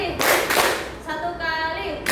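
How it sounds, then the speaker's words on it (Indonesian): A class of students claps along in a clapping game, one loud clap and then two more in quick succession, close and full, with faint voices underneath. "tepuk 1 kali, tepuk 2 kali"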